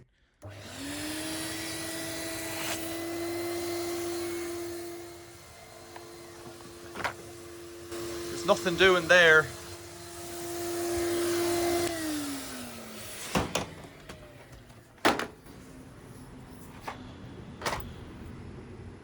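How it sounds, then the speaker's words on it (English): A Numatic Henry HVR200 vacuum cleaner with a blocked silver pipe runs with a steady drone that shifts pitch, broken by clattering handling noises and bumps, with someone talking briefly over it. "This is a Numatic vacuum cleaner and it's got a silver pipe"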